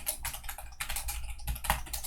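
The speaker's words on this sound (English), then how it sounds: "I made a typing mistake." Fast typing on a computer keyboard, bursts of crisp key clicks in quick runs with short pauses, close and clear.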